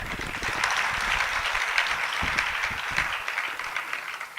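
Audience applause at a spiritual discourse, a dense, sustained burst of many hands clapping that gradually thins out toward the end.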